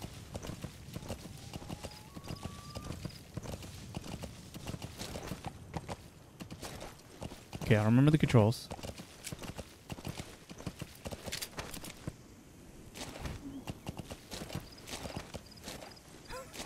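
Horse hooves clip-clop at a steady walking pace while riding in Metal Gear Solid V: The Phantom Pain, mid-loud and continuous, with a brief louder whinny-like burst partway through and a voice speaking briefly over the steps.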